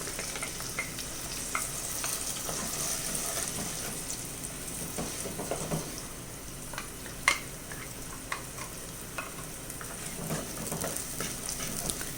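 Ground masala paste frying in a pan with onions for a tuna fish curry gives a steady, moderate sizzle with occasional crackles and scraping stirs, without any voices.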